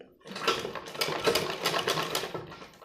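An electric sewing machine stitching baby vest fabric with coloured thread, a close, steady mechanical whirr with a rapid needle patter that rises and falls over about three seconds.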